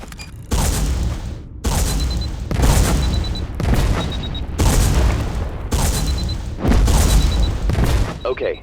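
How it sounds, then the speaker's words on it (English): Detonating missiles burst in a third-person shooter set in the Cliff Empire universe, about seven heavy booms in a fast, evenly spaced series, each one loud and close with a short, sharp ring. "shoot targets down with detonating missiles"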